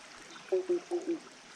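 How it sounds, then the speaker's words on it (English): Frogs by a running creek give four hollow, resonant croaks in a quick, evenly spaced series, sounding as if they come from inside a pipe, over soft background water and ambience. "There's these crazy frogs there, you can hear them."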